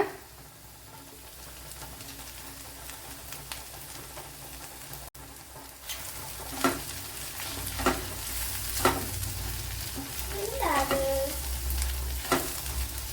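Ivy gourd frying with crushed spice paste added, a continuous sizzle that brightens partway through, with several sharp stirring scrapes and knocks in the pan.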